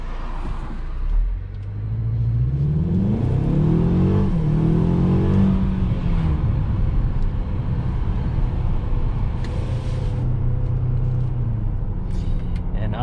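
A 2021 Mercedes-Benz GLA engine revs as the transmission downshifts during a test drive, a rising and falling drone heard from inside the cabin that holds steady afterward as someone talks over it.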